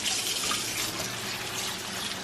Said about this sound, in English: I'm gonna go ahead and just rinse this